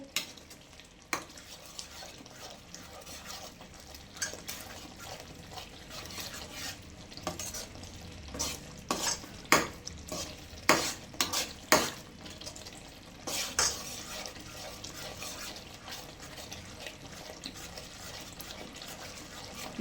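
Something frying in oil in a pan, a soft steady crackle with occasional louder clinks and scrapes of stirring, moderately close, no talking.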